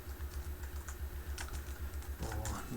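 Fast, steady typing on a computer keyboard while writing C# code, close and clear, with a brisk rhythm of key clicks and a few heavier strokes near the end.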